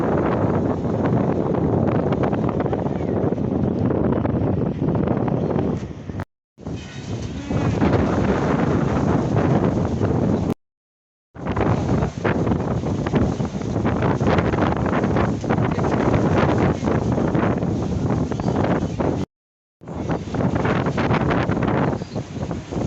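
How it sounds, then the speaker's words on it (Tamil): Strong wind and rain outdoors on a garden terrace, heavy roaring gusts battering the microphone almost without pause, cut by several brief abrupt gaps of silence. "வீடியோ எடுத்துகிட்டு இருக்கும்போது பயங்கர காற்றும் மழையுமா இருந்தது."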